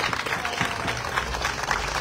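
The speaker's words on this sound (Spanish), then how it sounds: "la recibamos nuevamente con un fuerte aplauso a nuestra alcaldesa" Applause from an audience at an outdoor municipal inauguration of monumental Catrina figures, greeting the mayor; steady, dense clapping mixed with crowd noise and a low rumble.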